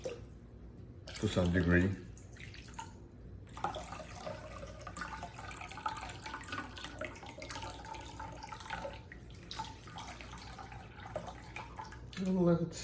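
A sharpening whetstone is submerged, turned and soaked in water before sharpening a traditional filet knife, giving close splashes and drips at the start and end with quieter watery trickling between and a few brief spoken words.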